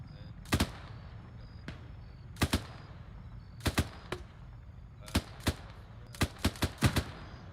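High-explosive rounds fired at a church roof in a military shooter game: sharp gunshot cracks in short bursts of two or three, spaced irregularly over a low steady background.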